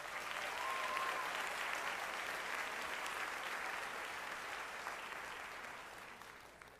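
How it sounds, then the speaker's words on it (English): A crowd at a high school commencement ceremony claps steadily in a broad, moderately distant wash of applause that slowly tapers off over several seconds. "Let's clap to that."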